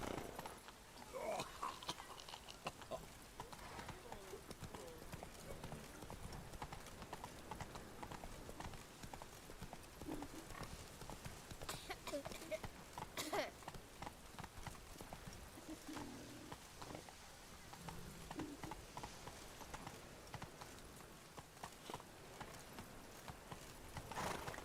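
Roach, the horse in The Witcher 3: Wild Hunt, gallops with a continuous rhythm of hoofbeats over a soft patter of rain, all fairly quiet and distant in the mix.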